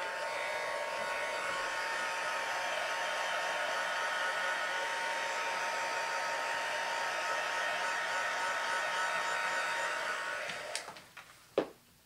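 A hair dryer runs steadily at close range for about ten seconds, a constant even whir that then cuts off, followed by a few faint clicks and a brief knock.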